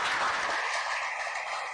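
Audience applause for the president at a formal insurance conference session, a dense steady wash of clapping from many hands that carries on evenly and thins slightly toward the end, with no voices over it.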